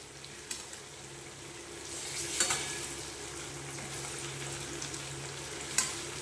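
Chicken pieces fry and get stirred in a pan of cooked-down spice masala, with a soft, steady sizzle and occasional scrapes and clinks of the spatula, fairly quiet and with no talking.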